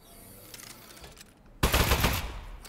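An Aperture Science Turret in the Aperture Desk Job video game fires: quiet room tone, then a sudden, loud, rapid burst of automatic gunfire that keeps rattling to the end.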